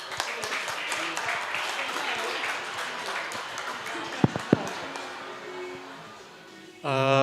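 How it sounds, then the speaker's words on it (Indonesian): An audience claps at a live talk show in a dense, steady wash of applause that slowly fades, with a couple of sharp knocks near the end and then a voice starting to speak. "semuanya boleh tepuk tangan buat Erik"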